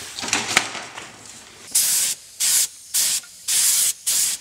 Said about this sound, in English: A quick coat of primer and then a coat or two of satin black.